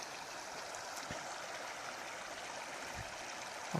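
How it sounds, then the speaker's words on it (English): Whitefish Creek along the Oregon Skyline Trail, a clear, cold mountain stream, rushing in a steady, continuous wash close by, with no voices over it. "This is Whitefish Creek."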